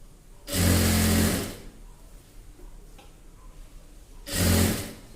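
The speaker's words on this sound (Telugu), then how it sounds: "ఇగో ఇక్కడ కిస్తా భాగం దగ్గర గట్టి కుట్టు వేసుకోవాలి." A sewing machine stitches a chudi pant in two loud, close bursts of about a second each, separated by a quiet pause with faint handling noise and no talk.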